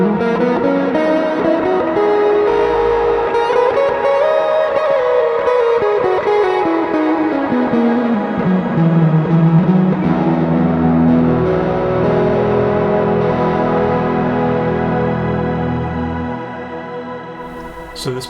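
Electric guitar played through a Neural DSP Archetype amp plugin, heavily effected with a sweeping pitch bend that rises then falls over sustained notes, dense and reverberant, fading out at the end.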